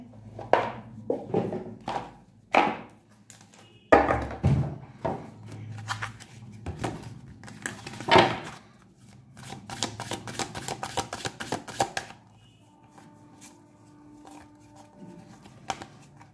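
Tarot cards being shuffled by hand, a series of crisp riffling bursts and taps, including a rapid run of flicks near the middle, close and fairly loud with no talking.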